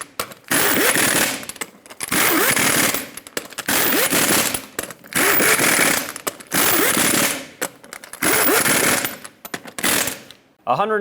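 Lug nuts on a Ford E-350 Super Duty rear wheel are tightened in a cross pattern, giving five loud rattling bursts of about a second each with brief gaps between them, heard close.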